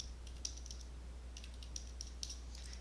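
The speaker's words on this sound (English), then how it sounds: "let's bring back that calculator and type all this in" Numbers tapped into a calculator's keys, a faint, quiet run of light clicking presses in uneven short bursts over a steady low hum.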